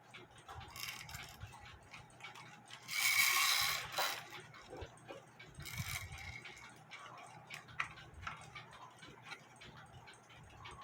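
Small metal clicks and taps as the movement of an antique German novelty clock is slid back into its slots, with a louder rattling burst early on and scattered light ticks after, close and fairly quiet.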